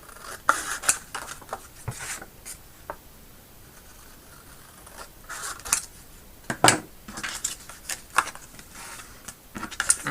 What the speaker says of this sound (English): so that I can now cut this piece